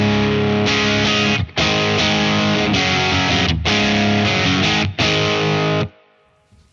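Heavily overdriven electric guitar chords on the bridge pickup through a Victory VC35 The Copper amplifier ring out loud and thick, with brief stops between phrases, then cut off to near silence at the end.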